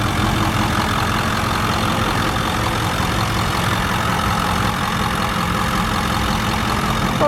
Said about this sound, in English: Powerstroke turbo diesel engine just purring away like brand new.